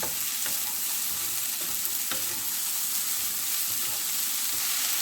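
Onion stalks being stirred and fried in a pan, a steady close sizzle with scraping stir strokes throughout and no talking.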